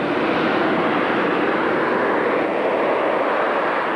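A Harrier jet's engine roars in a loud, unbroken broadband rush that holds steady and close throughout, with no voices.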